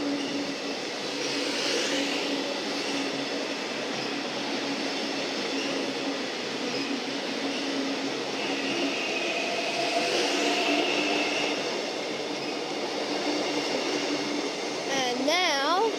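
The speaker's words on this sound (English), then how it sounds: "Okay, our first express service is coming through." A Melbourne Metro express train runs through a station on race day, a sustained rolling rumble with rising and fading wheel noise and a brief squeal near the end, with voices faintly present.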